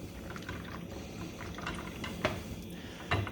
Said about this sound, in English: So this is the first cup that I'm whisking in.